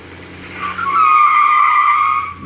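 A Toyota Tundra and a Dodge Durango strain in a tug of war as tires skid, a loud sustained squeal that swells and holds under a steady engine roar.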